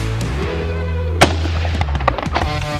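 A single sharp shotgun blast from a dove hunt in Yuma, Arizona rings out loud and close in an open field, followed by fainter rustling and handling sounds.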